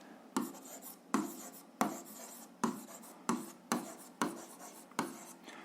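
A pen writes in a notebook during algebra exercise work, a series of about eight short, crisp scratching strokes spaced at a regular rhythm, each starting sharply and trailing off, close and clear with no talking.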